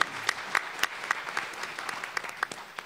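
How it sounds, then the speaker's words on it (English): Applause from a conference audience for panel participants on stage at a ministerial roundtable, a steady patter of many hands with sharper claps standing out, moderately loud and close, with no talk over it. "Once again, let's applaud the participants on the stage."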